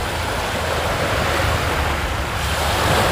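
Sea waves wash onto the shore in a continuous, loud roar of surf with wind noise on the microphone, steady throughout and with no talk.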